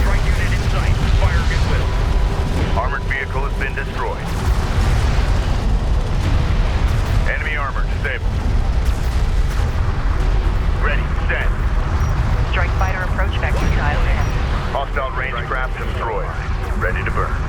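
Explosions and weapon fire rumble in the real-time strategy game Homeworld: Deserts of Kharak, with heavy low booms and crackling combat noise under in-game radio voices reporting on the battle, loud and continuous.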